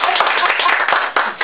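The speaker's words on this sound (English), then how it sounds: "You can clap." An audience claps after a persuasive speech about hybrid vehicles, giving a dense burst of hand claps that stays steady over the short span and then briefly dips near the end.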